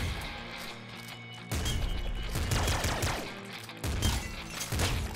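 Rapid automatic gunfire from a triple machine gun in the top-down shooter Nuclear Throne, loud sustained bursts of chattering shots broken by brief gaps, with game sound effects layered underneath.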